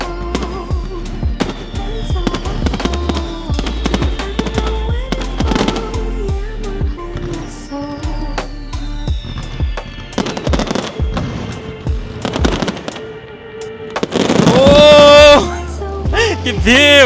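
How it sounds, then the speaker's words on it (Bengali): Rapid bursts of fireworks crackle and pop over Kobe, Japan at night, with a festive din of voices, building into a dense, louder crackling barrage near the end. "আতশবাজি ফুটাইছে ফায়ার ওয়ার্কস হচ্ছে"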